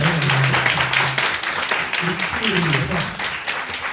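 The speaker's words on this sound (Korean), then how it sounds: "감사의 박수 한번 보여주세요." A high-school youth congregation at a Sunday service claps in thanks, a loose patter of hands running under someone speaking over it in Korean.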